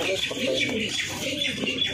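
Giribaz pigeons at a breeder's home loft, soft low cooing and murmuring from several birds close by, with faint chirps and rustling mixed in over a short stretch.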